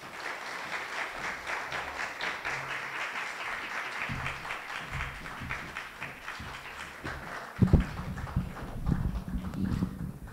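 Applause from an audience after a presentation, a steady patter of clapping that holds throughout, with a louder burst of claps and crowd noise near the end.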